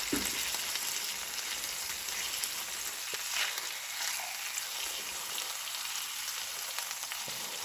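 Chicken pieces frying in a pan, a soft, steady sizzle throughout, faint and close, with no voices.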